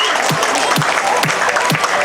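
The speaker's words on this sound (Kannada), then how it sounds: "ಸಂಗೀತ ಕುರ್ಚಿಗೆ ಜೋರಾದ ಚಪ್ಪಾಳೆ ಬರಲಿ." Applause at a school annual day prize-giving for the musical chairs winner: a steady wash of many hands clapping, fairly loud and continuous, with brief sharp bursts recurring about every half second.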